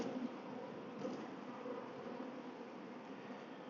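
Honey bees buzzing around a hive with honey supers during a beekeeping inspection, a steady faint drone of many insects with no voices over it.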